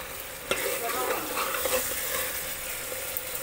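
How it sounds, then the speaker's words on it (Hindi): Goat meat frying with milk in a pan for dudh korma, a steady sizzle with stirring scrapes and occasional light clinks, close and alone with no talk. "अब इसमें फिर से डालेंगे थोड़ा सा और दूध और इसको फिर से भूंजेंगे।"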